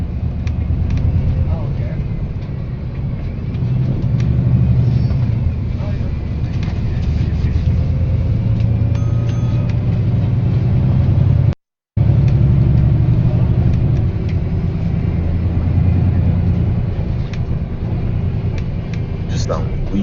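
A bus engine gives off a faint, muffled rumble that holds low and steady through the whole stretch, briefly cutting out once near the middle, while someone talks over it.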